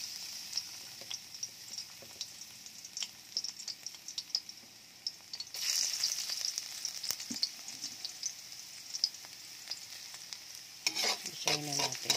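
Garlic fries in oil in a pan, a soft steady sizzle with scattered stirring clicks and scrapes, growing brighter midway and ending with a burst of louder clatter.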